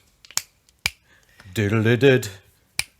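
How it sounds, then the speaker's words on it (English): Sharp, crisp finger snaps come at uneven intervals while a voice hums a short tune between them. "can you click your fingers?"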